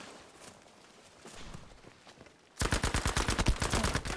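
Rapid automatic fire from MP40 and STEN submachine guns in the Battlefield 5 multiplayer game, with softer scattered shots and footsteps first, then a loud, sustained burst of closely spaced rounds.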